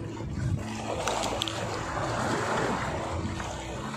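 Waves washing against the breakwater at Sadeng Beach, a constant broadband roar of surf and wind that stays loud and steady throughout, with no voices.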